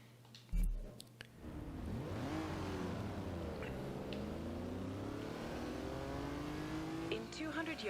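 Race car in Forza Horizon 2 pulls away on a shoreline sprint with a rising, revving engine whine that climbs through gears, loud and close after a sharp thump at the start.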